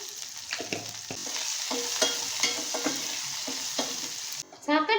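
Chilies, garlic and salt sizzling in a pan, a steady fry broken by repeated scrapes and stirring taps of a spoon, ending with a brief louder clatter.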